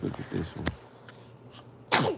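A person talks briefly, then after a quiet pause a sudden, loud sneeze bursts out close by at the very end.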